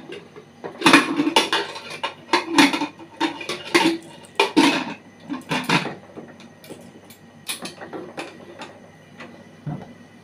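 Pots, lids and metal utensils clatter and clink in irregular bursts while food goes into a pressure cooker in a home kitchen, loud and close with no talking.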